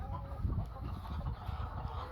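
A grey hen about a year and a half old clucks in a backyard flock, soft low repeated clucks close by over a steady farmyard background.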